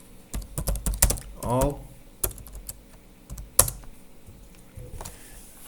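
Keyboard typing at a computer while entering a disk shadow list shadows command, a few quick bursts of key clicks near the mic with a brief voice in between.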